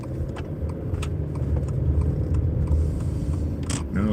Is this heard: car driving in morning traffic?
yes